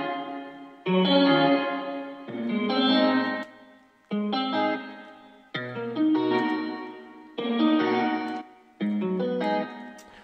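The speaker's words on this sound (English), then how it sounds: "with the wet knob, you're basically getting you're getting more of the reverb over the actual sound itself" Reverb effect in FL Studio 12 with the wet knob turned up, applied to a synth or instrument phrase: seven short bursts of notes, each trailing into a washy reverberant tail before the next begins.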